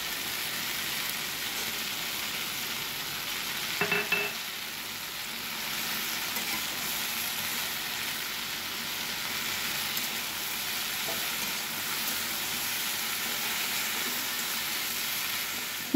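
Okra frying with onion, green chilli and nigella seeds in a home kitchen gives a steady, soft sizzle throughout, with one brief stir or clatter near the start and no talk.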